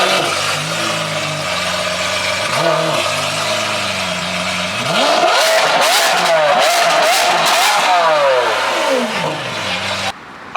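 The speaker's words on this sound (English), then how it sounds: "I love how loud these cars are." Lamborghini Aventador supercars revving hard at close range, first a steady rumble, then a series of loud, sharp climbing and falling revs with crackles.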